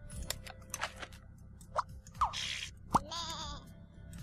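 A lamb bleating in the video game Scribblenauts Unlimited, a few short faint bleats spread among quiet clicks and crunchy game effects.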